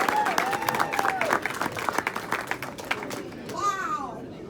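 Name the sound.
warm round of applause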